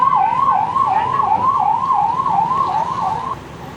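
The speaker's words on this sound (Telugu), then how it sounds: "ఎస్, లెఫ్ట్లోంచి వెళ్ళిపోతుంది అంబులెన్స్." An ambulance siren wails in a fast, regular up-and-down pattern as the vehicle passes through road traffic on the Srikakulam to Visakhapatnam route. It is loud over engine rumble, then cuts off near the end.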